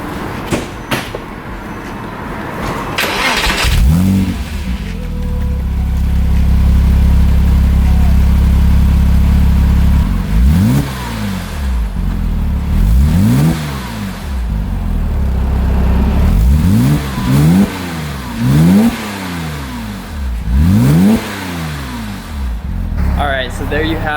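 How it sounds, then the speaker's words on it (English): A Porsche Cayman S on its old aftermarket exhaust idles with a steady low drone, then gives a series of sharp, close throttle blips, about eight quick rising and falling revs up to roughly 4,500 RPM, each followed by settling back to idle. "I'm gonna go ahead and give you guys a few revs of that"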